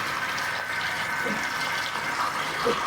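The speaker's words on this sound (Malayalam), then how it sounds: "ആദ്യം വെള്ളം എടുത്തിട്ട് കുറച്ച് വെള്ളം ഒഴിച്ച് ഒഴിക്കാം." Water poured over okra in a bowl to soak, a steady gentle pouring and trickling that runs for a few seconds, quiet and close, with no talking.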